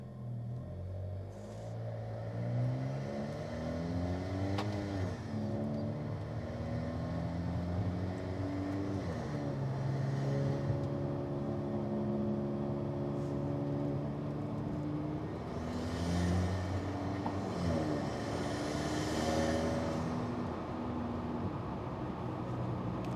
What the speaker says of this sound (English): I'm going to engage drive, and off we go.